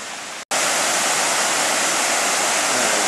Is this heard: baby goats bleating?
no